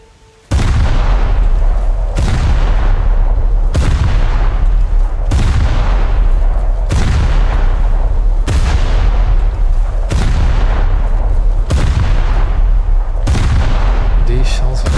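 Naval artillery shells firing in a naval combat video game, a rapid series of about nine loud, heavy booms at steady intervals of roughly a second and a half, each followed by a rolling decay.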